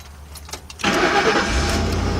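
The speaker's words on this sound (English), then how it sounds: "So what we're gonna do is gonna have Marcus start the vehicle up" A 2003 Lincoln Navigator with a low-voltage fuel pump circuit fault cranks briefly and starts, then settles into a loud, steady idle, close by with no talking.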